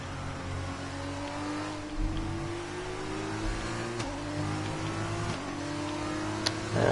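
A Formula 2 single-seater racing on a track in the USA gives a steady high engine whine that climbs through the gears, shifting in pitch over a constant trackside roar.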